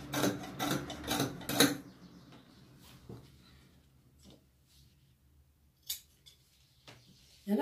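Scissors snip through fabric for a school smock, a quick cluster of crisp, close cuts at the start followed by a few scattered fainter snips in a quiet room.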